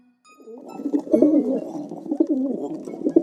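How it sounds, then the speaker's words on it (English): A pigeon coos nearby in a soft, rolling, throaty series lasting a few seconds, clear and fairly loud with no other sounds. "Pigeon."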